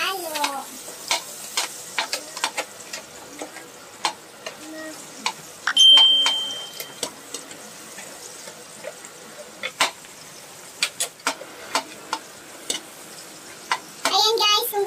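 Onion fries in a pan while being stirred for a mantis shrimp dish, a soft sizzle under scattered scraping and clicking strokes of the utensil, with a person talking over it and a brief high beep partway through.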